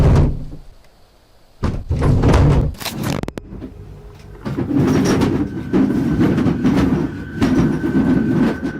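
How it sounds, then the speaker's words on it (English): A loud, busy clatter of dishes jostling inside a closed cupboard, a quiet pause and then bursts of rattling and knocking that build into a sustained jumble of clinks and bangs. "It sounds like all the dishes inside are jumping around."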